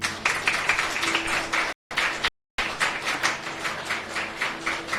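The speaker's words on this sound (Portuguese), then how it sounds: "Uma salva de palmas para Jesus." A church congregation claps at a communion service, a steady close patter of many hands continuing for several seconds, broken by two brief dropouts of total silence.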